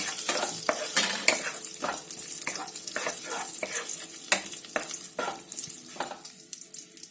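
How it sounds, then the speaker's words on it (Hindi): Raisins and finely chopped coconut being roasted briefly in a pan for carrot kheer, with repeated sharp spoon scrapes and stirring clatter over a light sizzle, fairly close and steady. "1-2 सेकंड चलाएंगे इसे भी।"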